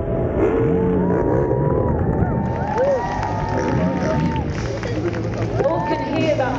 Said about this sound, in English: So when he revs the engine, come on, Royal Cornwall, let's will this boy over this jump.